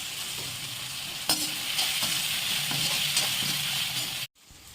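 Onions with a little salt fry and sizzle in a pan for chicken gravy, a constant close hiss broken by several clinks and scrapes from the stirring spoon before cutting off sharply at the end.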